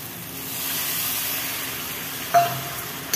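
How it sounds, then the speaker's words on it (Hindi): Steady sizzling of masala frying in a kadhai for aloo parwal sabzi, with a brief scraping stir near the end. "मसाला को आप बीच बीच में ऐसे चलाते रहिएगा तो नीचे कढ़ाही में लग जाएगा"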